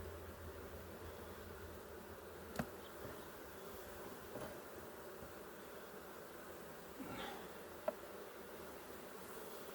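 A honeybee swarm is being moved from a box into hives, giving a faint, steady insect buzz throughout with a few brief knocks and taps from the hive work.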